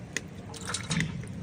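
Large sago pearls being rinsed clean in water, with soft sloshing and brief dripping, light liquid splashes close by over a few seconds and no talking.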